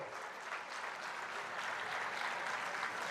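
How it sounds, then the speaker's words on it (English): Audience applause for Satish Reddy at the Science Experience Centre event at CSIR-IICT, Hyderabad: a steady, dense wash of clapping from a large crowd, sustained and even throughout without any voices. "big round of applause to Satish Reddy Garu"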